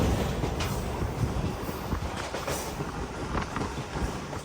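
A passenger train rolls along the rails on the Agartala to Sabroom line in Tripura, a continuous rumble with soft clickety-clack from the wheels and occasional squeaks, heard from inside.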